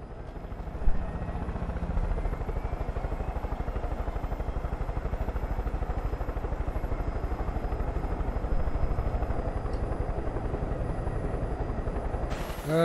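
Helicopter in the video game Far Cry 5, its rotor thumping in a steady, fast, loud chop that runs throughout with engine whine above, close and continuous, with no talk.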